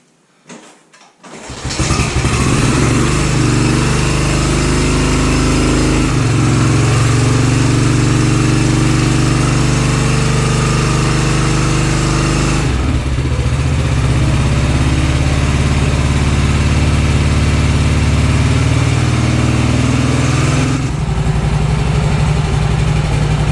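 A 1954 BSA B31 motorcycle engine coughs a few times and catches, then settles into a loud, close, steady thumping idle that holds for the rest, with small shifts in its beat.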